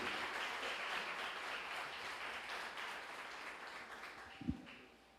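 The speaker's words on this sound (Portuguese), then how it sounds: "Dê uma salva de palmas ao Senhor, amém?" Church congregation at a conference service claps together, a soft, distant-sounding wash of applause that slowly tapers off, with a single sharp thump near the end.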